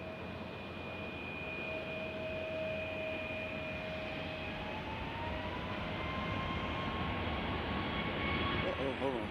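A jet airliner in Republic Airways livery whines steadily at Nashville International Airport, a continuous engine roar with sustained high tones that slowly shift in pitch over the full stretch.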